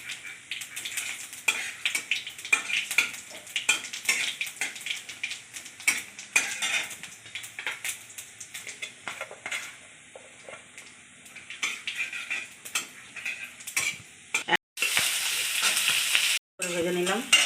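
Dry red chilli, bay leaves, cumin and mace sizzle in hot mustard oil, crackling with scattered pops and stirring clinks, then a sudden loud burst of hissing near the end.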